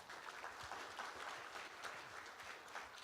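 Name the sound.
audience applause welcoming guest of honor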